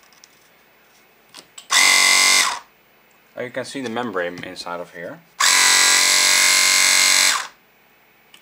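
A cheap AliExpress air compressor runs in two loud, steady bursts of roughly a second and two seconds while failing to build pressure, with a person talking briefly between them.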